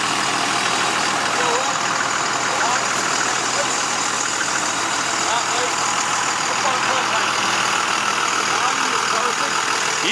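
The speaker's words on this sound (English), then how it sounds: "It's got motor. It's been sitting here running for about 20 minutes." A 2002 Coachmen Cross Country Elite 354MBS motorhome engine idles steadily, a loud, even, continuous motor drone that has been running for some time.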